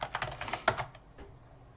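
Keys clatter on a computer keyboard as a search is typed, a quick irregular run of soft close taps that trails off into near silence, with no one speaking.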